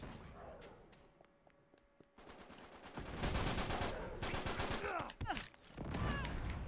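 Rapid bursts of gunfire in the video game Uncharted 3, with sporadic early shots building into dense, loud automatic volleys and a brief pause, with faint voices underneath.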